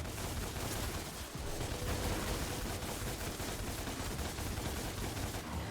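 Dense, continuous gunfire from the DmC Devil May Cry video game, with rapid shots blurring into a loud, unbroken barrage that stays at full intensity for the whole stretch.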